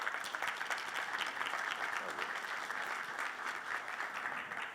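An audience at a national congress of court bailiffs in Belo Horizonte, Brazil, applauds steadily as a speaker is introduced, a dense, even wash of clapping filling the hall for several seconds without a break.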